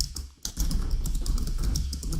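Keystrokes rattle steadily on a computer keyboard as a code comment about a recursive Fibonacci function in C gets typed, with a short pause before a continuous run of close, crisp clicks over low background hum.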